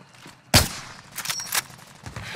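Gunfire in Call of Duty: Modern Warfare, with one sharp, loud shot followed by a quicker cluster of bursts and cracks, some nearer and some farther off, between quieter gaps.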